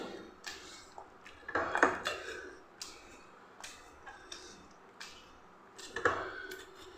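Soft scraping and clinking of a utensil against a metal pot as cooked lentils are mashed for Tirunelveli-style thanneer paruppu kuzhambu, irregular taps and squishy presses repeated at close range, no voices.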